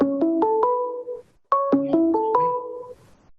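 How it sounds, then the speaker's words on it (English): A phone ringtone plays in two rising melodic runs of chiming notes, clear and fairly loud, with a short pause between the phrases. "Sorry, is that your phone, Sharif?"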